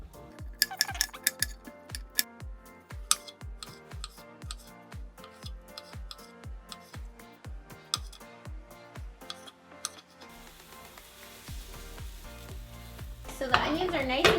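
Chopped onions fry in a pan until crispy, a soft sizzle beneath a quick, regular series of knocks and clicks that stop partway, leaving a steadier sizzle that swells near the end.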